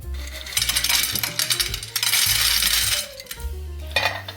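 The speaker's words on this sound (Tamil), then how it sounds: "வேர்க்கடலையும் நல்லா பொரியிற சத்தம் வருது" Peanuts roasting in a pan, rattling and clinking in repeated close bursts with short pauses, crisp and fairly loud, no talking.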